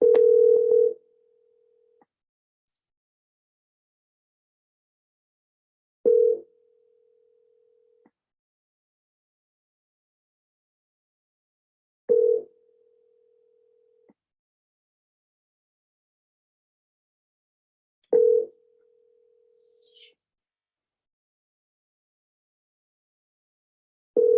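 An unanswered mobile phone call rings back through the earpiece, a steady tone repeating about every six seconds with long silent gaps between rings, clear and isolated.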